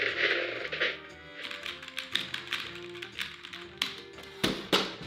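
Rapid clacking computer keyboard keys being typed on, a dense run of crisp taps layered over background music, with no talking.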